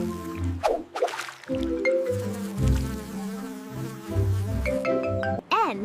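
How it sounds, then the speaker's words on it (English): A mosquito whines in a continuous, wavering insect buzz with short breaks and pitch swoops, close and fairly loud, ending in a rising and falling whine. "M is for mosquito."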